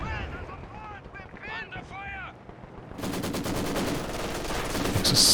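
Rapid gunfire and sniper shots from a Company of Heroes 2 4v4 World War II battle, a dense continuous crackle of automatic fire and bursts that swells louder in the second half, with someone talking over the first few seconds.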